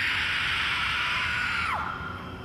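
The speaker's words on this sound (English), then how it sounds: "Have you ever heard me scream?" A woman lets out a long, loud, sustained scream that holds steady then drops off sharply at the end, alone without talk.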